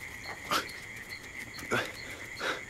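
Dog whimpering on a wartime roadside in a film: three short, high whines spaced about a second apart over a faint hiss.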